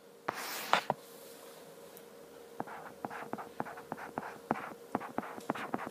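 A teacher writing on a board for a middle-school Korean language lesson on phonology, producing a few scratchy strokes and then a series of quick, evenly spaced taps and clicks, close and moderately loud, without talk.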